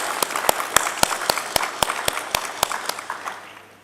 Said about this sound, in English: So can we give a round of applause to folks working on broadband?